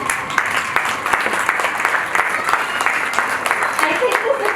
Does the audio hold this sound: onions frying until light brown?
no